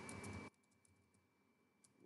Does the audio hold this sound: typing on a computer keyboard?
yes